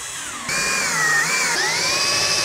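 A power drill drives a lag bolt into the wall for a TV mount, giving a close, loud, high whine that kicks in and holds for about two seconds, its pitch dipping and rising as the bolt bites.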